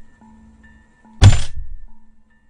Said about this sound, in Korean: 헬멧 안에서 쿵하는 소리가 진동하고 귀가 멍멍했습니다.